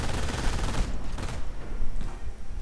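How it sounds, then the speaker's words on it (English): Machine gun bursts and mortar explosions in a WWII strategy game, with half-tracks in the action; dense overlapping gunfire cracks and booms fill the mix loudly, easing briefly then resuming. "Lots of machine gun fire, lots of action, lots of half-tracks. Lots of mortar rounds too."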